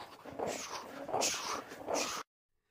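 A dog biting aggressively during an attack, giving harsh snorting, growling bursts for about two seconds before the sound cuts off abruptly into silence.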